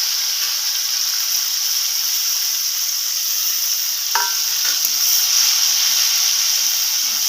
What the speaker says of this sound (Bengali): এবার তেলের মধ্যে আমি কেটে রাখা টমেটোগুলোকে দিয়ে দেব।